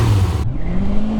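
A Kawasaki Ninja ZX-6R motorcycle exhaust fitted with a new filter revs hard, a loud close engine note that drops sharply and then settles into a steadier rising drone within a second.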